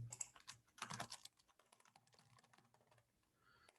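Fast typing on a computer keyboard during a coding session, with a loud dense burst of key clatter at first, then lighter scattered keystrokes continuing alone.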